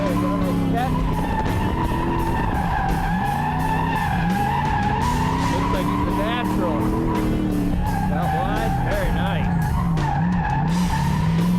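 A car drifts around a bend with tires squealing and skidding over a revving engine. The screech is sustained and rises and falls through the corner while someone talks over it.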